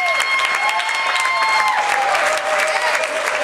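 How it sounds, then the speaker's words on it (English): Wedding reception guests applaud for the father of the bride with loud, steady, dense clapping from a full room, and a faint musical tone runs underneath throughout. "a great big round of applause for the father of our bride"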